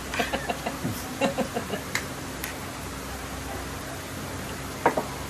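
Several short clucks from a chicken come in a quick scattered series early on, then a lone cluck later over a quiet background hum.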